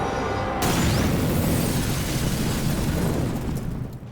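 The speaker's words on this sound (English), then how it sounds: "They think it's a hand grenade." A hand grenade blast in a spy drama: a sudden loud, sustained roaring explosion that cuts in abruptly and rumbles on for several seconds before beginning to fade.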